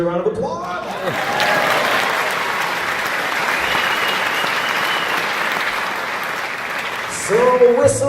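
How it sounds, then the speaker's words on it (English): Live concert audience at the Pablo Center in Eau Claire, Wisconsin, breaking into sustained applause for several seconds, a dense wash of clapping with brief voices at the start and end. "Give yourselves a round of applause."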